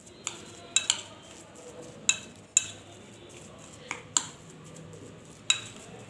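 A spoon stirring falafel mixture with baking soda in a bowl, giving scattered sharp metallic clinks and scrapes at irregular intervals against a quiet kitchen background.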